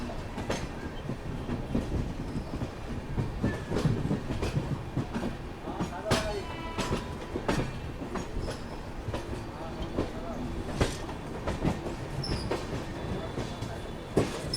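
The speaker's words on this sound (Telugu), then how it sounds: "సో మన కొనార్క్ ఎక్స్ప్రెస్ పాయింట్స్ ఎట్లా చేంజ్ అవుతుంది చూడండి" The Konark Express (11019), running from Mumbai CSMT to Hyderabad, rolls over track points with a steady run of sharp wheel clicks and clacks over a constant rumble of the moving carriages.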